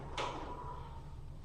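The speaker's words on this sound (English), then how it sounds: "Go close this door." A door closing as a sound effect in a radio drama, one short soft thud with a brief rattle, heard alone against a quiet background.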